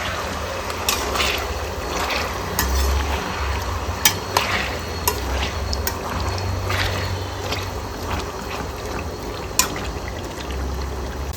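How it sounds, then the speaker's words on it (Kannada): Chicken chudles, a Coorg specialty, frying in hot oil: a loud, continuous sizzle with occasional sharp pops and stirring scrapes throughout, no talking. "ಈ ಹದದಲ್ಲಿ ಚೆನ್ನಾಗಿ ಫ್ರೈ ಆಗಬೇಕು"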